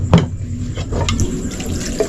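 Water running from a tap while a dish is being cooked with coconut milk, a steady splashing pour lasting about two seconds at close range, with no talking.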